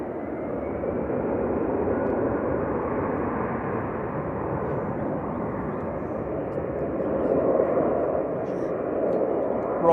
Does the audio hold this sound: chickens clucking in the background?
no